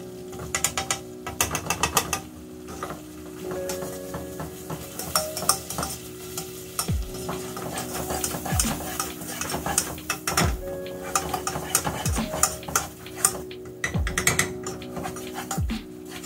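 A utensil stirs milk in a cooking pan, scraping the bottom in a repeated rhythm of strokes with small clinks, close but fairly quiet and with no voices.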